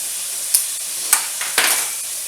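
Garlic stirred into a pan of zucchini and sausage mixture, a steady sizzle with a few sharp scrapes and clinks of the utensil against the pan.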